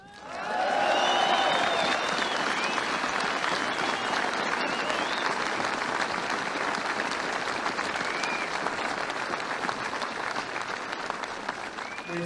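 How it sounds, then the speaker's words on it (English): A large crowd at a burial gives sustained applause, rising quickly and holding steady for over ten seconds, dense and fairly distant, with a few faint voices in it. "We applaud Martin McGuinness."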